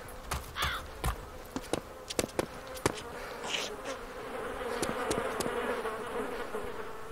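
Flies buzzing near a rubbish bin outdoors, a steady faint drone with sharp close passes and clicks in the first few seconds, then a continuous low hum.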